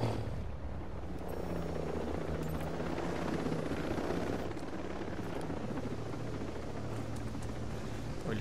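A helicopter in Ghost Recon Breakpoint drones continuously with a dense, rumbling rotor roar, steady and fairly loud throughout, with no voices.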